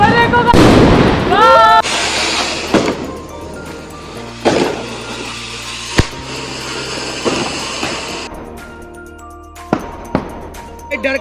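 Diwali firecrackers set off at a family celebration, heard as several sharp pops and bangs spread across the clip, some close and loud, with voices chattering in the background.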